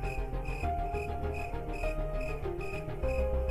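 Crickets chirping on a full-moon night in a sleeping village, a steady pulsing trill repeating about every half second, with low tonal sounds beneath, close and continuous, with no voices.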